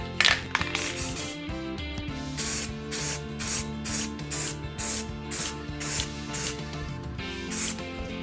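Airbrush spraying primer onto a 3D printed resin statue, a series of short hissing bursts repeating at a steady rhythm over a bed of background music.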